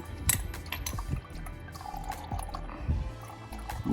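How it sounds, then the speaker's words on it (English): Motor oil drains out of a 2020 Hyundai Palisade through a Fumoto F106SX drain valve, a steady liquid trickle with soft irregular drips and splashes into a catch pan, fairly close. "I'm gonna let it drain for a little bit."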